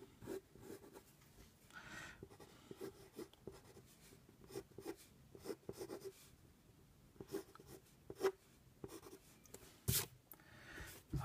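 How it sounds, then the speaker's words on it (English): A pencil scratches and rubs across paper in short, irregular strokes while a cartoon character is sketched, faint and close with small pauses between marks. "Now I'm drawing a little harder than you guys should be doing"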